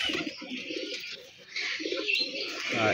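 Pigeons coo steadily in a loft, soft repeated burbling calls close by over a bright background of chirps and ambient hiss, with no speech.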